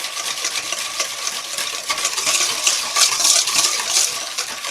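Vanilla extract mixture being whisked in a bowl for apple pie crumble muffins, a steady close scraping and clinking rhythm of the whisk against the bowl that runs continuously without pause.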